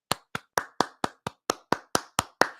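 Hands clapping in a steady series of about eleven sharp, evenly spaced claps, fairly close and moderately loud, with no talking.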